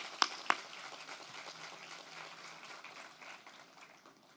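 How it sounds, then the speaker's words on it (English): Applause from the audience at an awards gala: a couple of sharp claps open it, then a soft, steady patter of clapping fades slowly, faint and distant throughout. "Please give her a round of applause."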